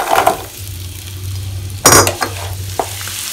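Vegetables fry and hiss in a pot while a utensil stirs and clinks against the metal, close and fairly loud, with a sharp scrape near the middle.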